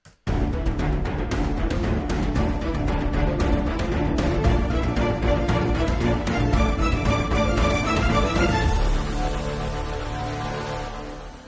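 An epic cinematic string ostinato with violins plays loud and dense over thundering Damage 2 percussion, building with a heavy Symphonic Destruction braam before the full mix fades out in the final seconds.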